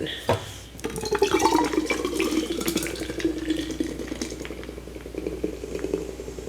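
Lawson's Finest nitro stout is dump-poured from a can, producing a close, steady gurgling splash of liquid into a glass throughout, with people talking over it.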